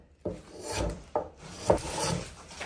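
A hand tool carves the last shavings from a wooden log dough bowl in a few separate rasping strokes, each a close, dry scrape of steel on wood.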